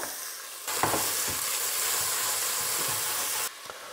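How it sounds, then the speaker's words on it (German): Steady loud sizzling of onions and garlic frying in leftover fat in a hot pan starts abruptly, with occasional stirring clatters, then cuts off after a few seconds. "In diesem Restfett werde ich jetzt meine Zwiebeln und den Knoblauch anbraten."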